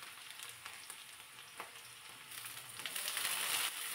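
Thinly sliced onion sautéing in a pan: a soft, steady sizzle with faint stirring clicks, growing slightly louder and hissier toward the end, heard quietly and alone.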